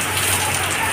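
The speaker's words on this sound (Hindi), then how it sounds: "इतना सारा बारिश।" Heavy rain falls during a city flood, a loud dense continuous hiss of drops pelting surfaces, close and unbroken with no other sounds standing out.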